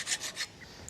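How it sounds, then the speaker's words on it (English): A hand file rasps across metal to take off burrs, three short strokes close together and fairly quiet, followed by a brief lighter scrape. "Now we're taking the burrs off."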